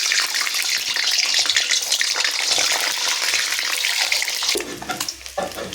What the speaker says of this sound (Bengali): এরপর এখানে আমি সেদ্ধ করে রাখা ডিমগুলো ভেজে নেবো